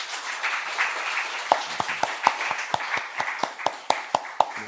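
Congregation applause during a church worship service, a sustained mass of clapping with sharper individual claps standing out in a quick, uneven rhythm, fairly close and moderately loud.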